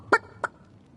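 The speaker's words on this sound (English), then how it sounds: "Don't let that rooster escape!" A rooster in the video game Divinity Original Sin gives two short clucks, a sharp loud one followed by a softer one, close and alone against quiet.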